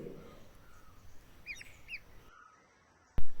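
Several faint high-pitched peeps from two ducklings, a few short calls around the middle, over quiet background noise, ending with a sudden thump.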